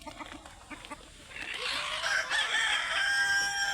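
A fighting-breed rooster crows loudly and close by, following a few soft clucks at the start.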